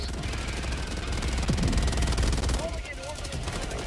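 Rapid gunfire in the video game Helldivers 2, a dense run of shots over busy game noise with a voice talking over it.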